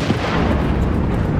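An explosion on an oil rig in the game Still Wakes the Deep, a loud, sustained booming rumble that fills the short moment without a break, with no voices.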